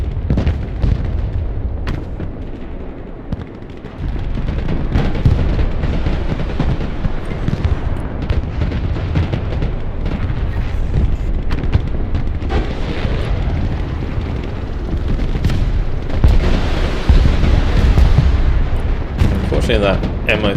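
Cluster artillery munitions in the Broken Arrow war game set off a long, loud rolling series of booms and crackling bursts, with someone talking over the barrage.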